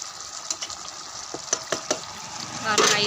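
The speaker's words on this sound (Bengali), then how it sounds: "দিয়ে এটাকে ভালো করে নাড়িয়ে নেব" A pumpkin, potato and chickpea curry is stirred in a pan with a few scattered utensil knocks and scrapes over a steady simmering sizzle, close and fairly loud, ending in a brief wetter swish.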